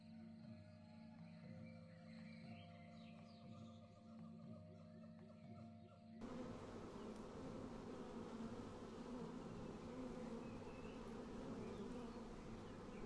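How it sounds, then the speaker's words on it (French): Dense, steady buzzing of an agitated bee swarm in Sumatra: Fate of Yandi, droning continuously throughout and swelling noticeably louder and thicker about halfway through, with no talking. "La rocheur de portée est pleine d'abeilles excitées."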